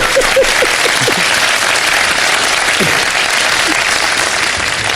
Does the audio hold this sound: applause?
yes